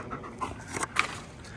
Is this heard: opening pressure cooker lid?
no